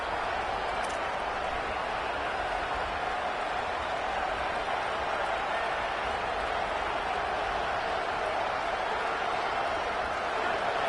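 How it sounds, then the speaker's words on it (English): Steady roar of a large crowd, a continuous wash of cheering noise that stays level throughout, heard from within the stands. "this crowd is fired up. Listen to this noise here."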